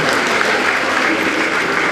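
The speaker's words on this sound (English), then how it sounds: "Audience, may I hear the thunder of applause for the team Aisha." An audience at a school Arabic Language Day prize ceremony applauds the winning team, giving steady, dense, loud clapping throughout with no pauses.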